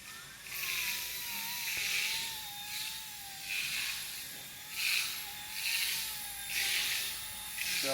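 A Vevor toy helicopter with gyro stabilizer takes off and flies, its small rotor and motor giving a thin high whine that swells and fades in repeated pulses, fairly faint and steady.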